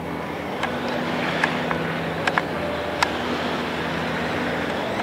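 A Tamiya radio-controlled car running slalom laps, heard as a faint, steady electric motor whine with a few sharp ticks and clicks. No one speaks.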